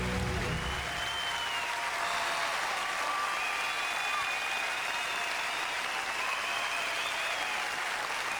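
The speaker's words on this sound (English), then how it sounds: "Even though the crowd is, applauding." A live audience applauds during a song performance, a broad, sustained wash of clapping heard at a distance, with faint tonal traces of singing or music drifting above it.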